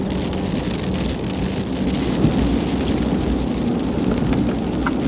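Steady rain drumming on a vehicle while driving on an Ontario highway near the St. Lawrence, a dense continuous hiss and patter with low road rumble underneath, no voices.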